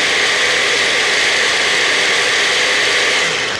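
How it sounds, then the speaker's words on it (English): Up close, a blender crushes raw almonds in a smoothie with a loud, unbroken motor whine and gritty roar that holds steady for several seconds. "A lot of times you want to stop your blender, let the almonds come down to the bottom, and turn it back on again."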